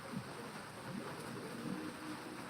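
Rainfall in the Solomon Islands, a steady hiss of rain with a low rumbling undertone, moderately loud and continuous throughout, no voices.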